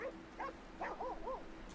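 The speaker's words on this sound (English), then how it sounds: "Oh, you're fishing with your doggy?" A dog in the video game Red Dead Redemption 2 makes a few short, moderately close yips and whimpering barks in quick succession, with no talk over them.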